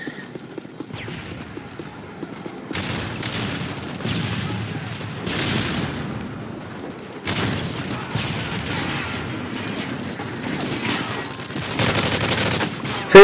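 Bursts of gunfire and explosive blasts from grenades and flashbangs in a laggy Call of Duty MW3 multiplayer match, coming in rapid clusters with brief gaps, loud and near.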